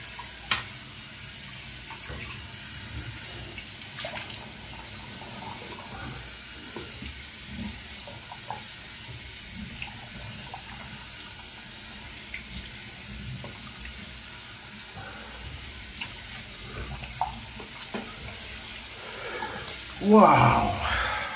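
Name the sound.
rinsing face with water after shaving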